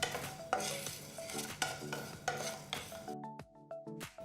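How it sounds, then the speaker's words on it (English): Coriander, cumin, fennel, kalonji and fenugreek seeds dry roasting in a pan, stirred with a utensil that scrapes and clinks against the metal in repeated strokes, close and fairly quiet with no talk. "Dry roast the ingredients for about 2 to 3 minutes till you get a nice aroma."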